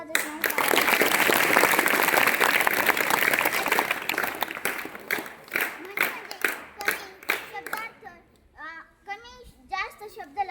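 A school assembly audience of a class 5 group breaks into dense, sustained applause after a song, fading out after several seconds as children's voices take over nearby.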